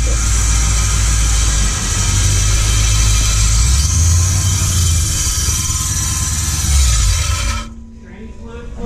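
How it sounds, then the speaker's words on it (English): A Lincoln Mark VIII with a manual transmission swap runs loud and close with a rough, vibrating engine note and a suspected flex plate fault, then cuts off sharply near the end. "It sounds like a flex plate."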